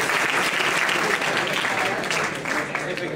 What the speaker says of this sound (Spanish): Otro aplauso para Colombia.